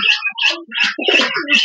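Racing pigeons cooing at close range in a loft, a few throaty bursts of rolling coos following one another with short gaps.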